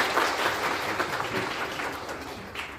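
An audience claps for a committee chair at a citizens' lecture hosted by a political party. Steady crowd applause fills the hall for a few seconds.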